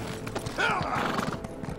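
A horse in The Elder Scrolls Online video game neighs with a rising, wavering whinny over the steady clip-clop of its hooves, close and clear, while a person speaks in the background.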